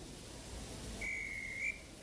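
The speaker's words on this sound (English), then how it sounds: "the guard's whistle blew and the two engines set off" A railway guard's whistle blows for a departing train: one clear, shrill sustained blast lasting under a second, heard alone over a quiet background.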